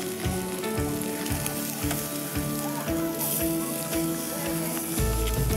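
Ribs fry in a pan on a stove inside a camper van, a steady loud sizzle with crackling spatter running throughout, with a short burst of stronger hissing near the end.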